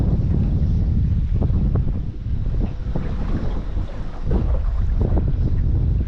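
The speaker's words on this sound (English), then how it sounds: "Sorry for the wind. Sorry for all the noises." Strong wind buffets the microphone at a creek fishing spot, a steady loud roar with gusts swelling and easing, while faint splashy water and movement sounds sit underneath.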